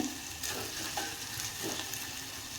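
Ingredients fry gently in a pan over a low gas flame, giving a steady, moderate sizzle throughout with faint stirring scrapes and no voices.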